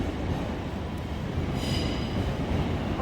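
A passing train rumbles continuously in a deep, loud roar of wheels on rails, with a brief faint high squeal partway through, steady and close with no talking.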